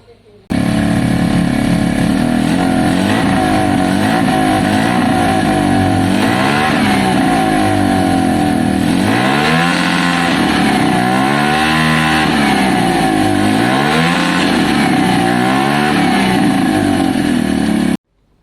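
A Kawasaki KSR motorcycle engine runs close by with its valve caps off, a loud buzzing single-cylinder drone with repeated rising and falling revs over about seventeen seconds, then stops.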